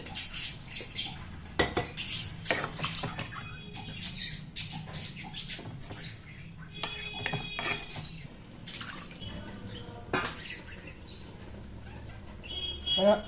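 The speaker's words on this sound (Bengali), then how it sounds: "কাঠের খুন্তি দিয়ে অবশ্যই নাড়ব" Food stirred in a pan with a wooden spatula, giving irregular soft scrapes and clacks against the pan, some sharper knocks, close and moderately loud with no talk.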